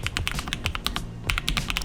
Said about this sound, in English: Typing feels smooth and satisfying.